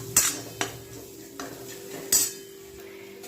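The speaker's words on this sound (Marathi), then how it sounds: "आता फ्राय झाल्याच्यानंतर आपल्याला याच्यामध्ये सुके मसाले घालायचे हे पण छान असे मस्त फ्राय करून घ्यायचे आहेत आपल्याला" Dry spices fry in a pan as a spoon stirs them, giving a few sharp metallic scrapes and clinks over a faint, low sizzle.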